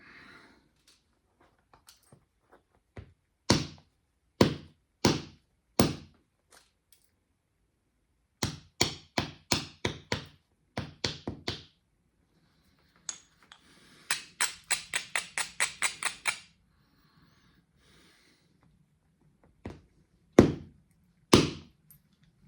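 Sharp, percussive stone-on-stone strikes from knapping a creek cobble, knocking off a flake: several sets of loud clicking hits, including rapid runs of taps, with pauses in between and no talk.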